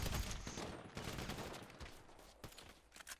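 Combat MG machine gun fire in GTA Online, heard as rapid bursts of gunshots at a faint, distant level, with scattered cracks trailing off over a few seconds.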